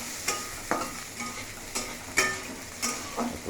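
Spices and tomato frying in a pan while being stirred, a steady sizzle broken by repeated scraping strokes of a spoon, close and fairly loud, no talk.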